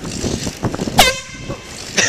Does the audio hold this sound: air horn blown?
yes